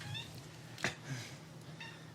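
A cat sitting calmly on a table meows softly, with a brief mid-pitched meow near the middle of the clip and fainter cries around it against a low room hum.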